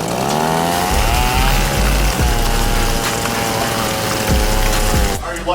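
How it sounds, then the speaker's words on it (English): A chainsaw in a virtual reality arena game revs with a loud, steady buzzing drone, its pitch climbing slightly and holding, cutting off abruptly near the end. "You got a chainsaw over here."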